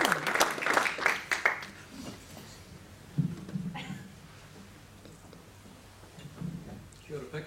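An audience applauds to welcome Dr Luke Wilson to a talk on a whole-foods plant-based diet, giving a short, moderately loud burst of clapping that fades quickly into quieter room noise and speech.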